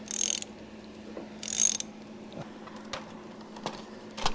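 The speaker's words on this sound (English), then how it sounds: "Cam chain's moving." Honda CL90 motorcycle engine turned over slowly by hand in tight condition, with scattered mechanical clicks, a couple of brief grinding rasps and faint knocks of the cam chain, close and quiet.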